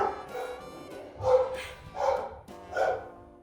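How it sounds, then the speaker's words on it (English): Several dogs barking indoors, giving three or four distinct barks spaced roughly evenly, moderately loud and slightly distant, with a faint background hum. "My dogs are going crazy."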